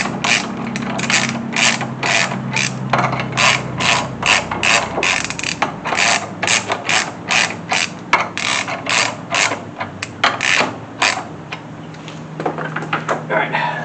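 Rapid ratchet clicking as nuts are tightened down on a Chevy 350 small-block engine, close and loud, in repeated bursts of quick pawl clicks with short pauses between strokes.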